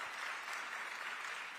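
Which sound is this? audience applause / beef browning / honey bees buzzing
audience applause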